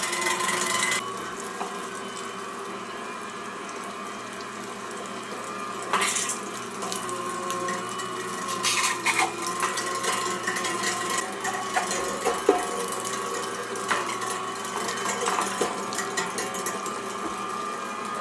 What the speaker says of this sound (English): this grinder, it kind of sucks the meat through on its own